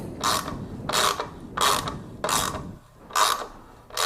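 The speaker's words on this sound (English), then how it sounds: "just get these bolts snugged up a little bit." A ratchet clicks in five or six quick bursts with short pauses between, close and clear, as bolts on an Akrapovic GP slip-on exhaust are snugged up on a 2016 Yamaha R1.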